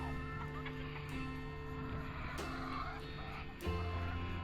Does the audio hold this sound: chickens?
yes